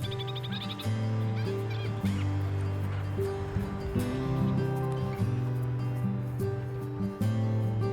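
Yellow-crowned kakariki parakeets released in Abel Tasman National Park give repeated chattering, squeaky calls, fairly close and clear over a steady outdoor background, with no speech.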